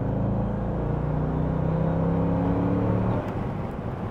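A 2004 Chevrolet Corvette with 27,000 miles on the road, its engine droning smoothly and steadily with rising harmonic tones, then easing off near the end; no talking.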